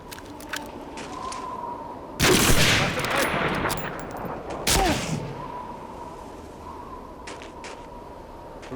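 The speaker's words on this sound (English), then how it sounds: "Who's shooting MG42?" An MG42 machine gun in the video game Medal of Honor rattles in two loud bursts with scattered distant shots before and after, set against quieter background battle noise.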